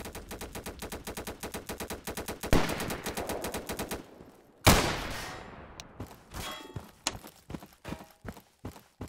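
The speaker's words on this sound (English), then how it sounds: "They're using explosive bullets." Rapid video-game gunfire with explosive bullets during a raid: dense automatic bursts, then a loud blast followed by scattered, irregular shots, all fairly close.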